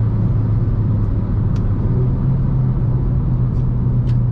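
A Renault Clio 4 RS Trophy engine hums steadily from inside the cabin during a gear change, a loud, continuous low rumble with a few faint clicks over it.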